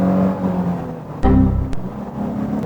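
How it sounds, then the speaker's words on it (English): A JDM car engine revving, with a sharp rise in engine roar partway through, then a gear change and steady running; loud, close and without talk. "And this car just revs."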